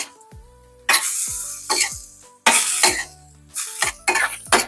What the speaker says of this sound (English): we're just going to mix this up